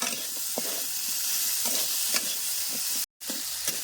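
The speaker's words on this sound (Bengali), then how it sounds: "আলুর সঙ্গে মশলা ভালো করে কষাই নিচ্ছি এবার একটা কাজের হাত টমেটো দিয়ে দিলাম" Potatoes, tomato and spices stir-fried together in a village-style pan, a close steady sizzle punctuated by repeated spatula scrapes and stirs, with a brief dropout near the end and no talking.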